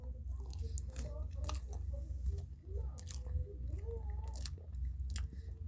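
Crunchy bites and soft chewing of a cookies and cream cupcake filled with Oreo-style cookie cream, close to the mic, with faint sounds of speech between the bites.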